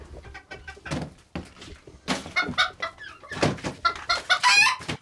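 Several chickens cluck and squawk nearby in quick, overlapping bursts, growing busier and louder toward the end.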